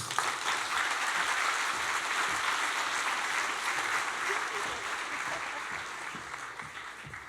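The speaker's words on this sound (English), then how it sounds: "let's give her another round of applause" A breakfast event audience claps steadily for over seven seconds, a dense sustained wash of applause from a large crowd in a hall.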